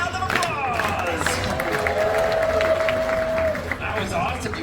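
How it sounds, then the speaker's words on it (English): Theater audience at the Monsters Inc. Laugh Floor show in Magic Kingdom applauds, a crowd of clapping and cheering mixed beneath a loud amplified voice and music that carry over the whole stretch. "Give those humans a round of applause!"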